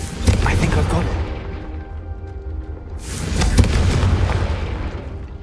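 A Confringo blasting spell from a Harry Potter video game goes off as two loud booming explosions, each with a rumbling decay, the second swelling larger; a voice calls out the spell beforehand.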